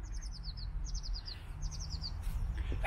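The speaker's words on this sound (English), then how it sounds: "Can you hear them birds?" Small birds chirp in quick repeated bursts of high tweets, a few calls in a row, over a steady low outdoor rumble.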